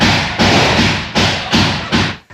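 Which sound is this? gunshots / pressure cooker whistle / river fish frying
gunshots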